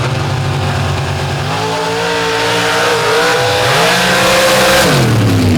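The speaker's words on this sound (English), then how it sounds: "both of them running those big ring racing engines" Loud racing truck engines at a Steelville race roar steadily, their pitch rising and falling as they accelerate, with a sharp drop near the end and no voices.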